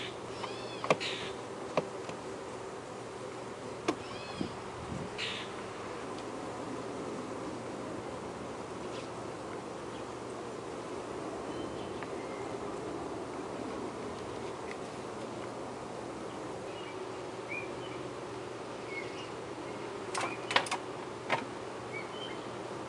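Honey bees hum steadily around backyard hives during a hive inspection, a continuous low drone with occasional brief knocks and clicks as frames are handled nearby.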